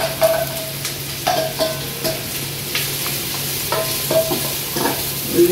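Onions frying in a hot pan for mushroom pulao, a steady close sizzle with a few light stirring scrapes and clicks scattered through, no voices.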